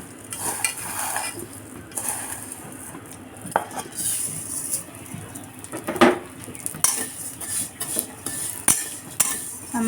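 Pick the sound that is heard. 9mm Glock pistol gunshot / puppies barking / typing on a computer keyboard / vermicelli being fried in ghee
vermicelli being fried in ghee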